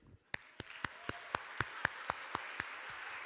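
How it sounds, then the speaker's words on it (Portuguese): Slow, evenly spaced claps from a church congregation, about eleven distinct sharp claps in steady rhythm over a faint background, sounding like a small scattered audience rather than a full ovation. "Quando alguém diz isso, é educado aplaudir."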